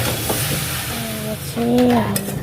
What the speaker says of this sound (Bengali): ভালো করে কষবো অনেকক্ষণ ধরে, তারপরে জল দেবো।